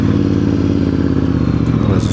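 A Voge DS625X motorcycle engine runs close by, a steady low throbbing rumble with rapid firing pulses and a light mechanical clatter throughout the short stretch.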